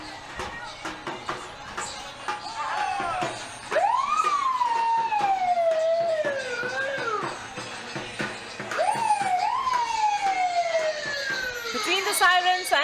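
Emergency sirens wail in rising and falling sweeps at an India Day parade amid a busy, noisy outdoor crowd and music, with brief clatter and background voices.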